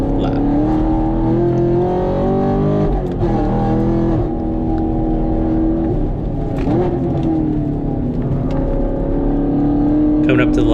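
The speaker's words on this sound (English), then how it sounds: "Again, the exhaust sounds great." A modified Chevrolet Camaro SS 1LE runs a hot lap on a race track, its exhaust loud and close, with a steady, rich engine note that shifts pitch through throttle lifts and gear changes before building again.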